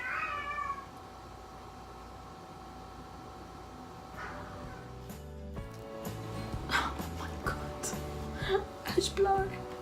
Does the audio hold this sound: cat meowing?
yes